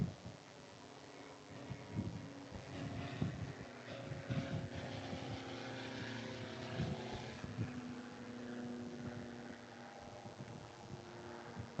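A twin-engine Diamond DA62 propeller aircraft flies near Wellington. It gives a faint, steady droning hum with a layered engine tone that swells gently over time, with some wind noise.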